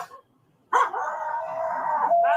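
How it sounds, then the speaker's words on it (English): A dog lets out a sustained howl that wavers and holds for well over a second, loud and close, after a brief quiet start. "That dog."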